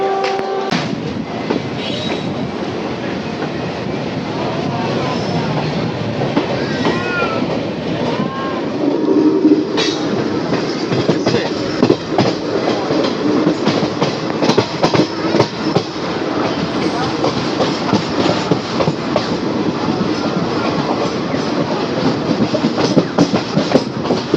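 Passenger train on the Sealdah to Bolpur line in Bengal, heard from aboard as a steady loud rumble with rhythmic clickety-clack of wheels over rail joints throughout, no talk.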